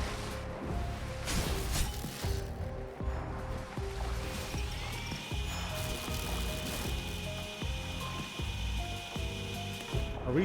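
A drill weapon in the video game Ender Magnolia whirs continuously with a grinding, vacuum-like drone, carrying a rhythmic mechanical chug and a rising high whine partway through.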